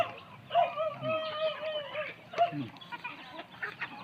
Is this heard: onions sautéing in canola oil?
no